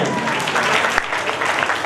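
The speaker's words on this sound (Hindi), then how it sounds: "जोरदार तालियों से इनका स्वागत करें।" An audience at a community talent award ceremony in Bhilwara breaks into steady, dense applause close by, with a voice faintly heard under the clapping.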